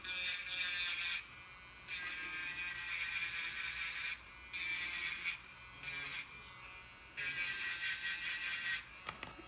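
Electric nail drill with a metal bit working on dip powder nails, a steady high-pitched whine running in several bursts with brief pauses between, fairly close and loud.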